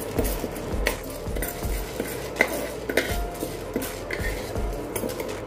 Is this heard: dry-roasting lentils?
yes